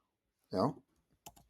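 Short bursts of typing on a computer keyboard, a cluster of key clicks followed by a pause and a couple more quick taps, close and fairly clear.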